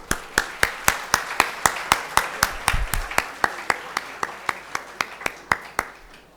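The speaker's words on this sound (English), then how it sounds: "A huge round of applause for our dignitaries, please." Slow, evenly spaced claps at an inaugural conference ceremony for dignitaries posing for a photograph, each sharp and distinct, about three per second, fairly near and steady, with a faint low murmur beneath.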